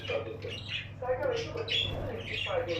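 Texas budgerigar chicks squawk inside a nest box in rapid, scratchy bursts, close and fairly loud, while a person talks over them.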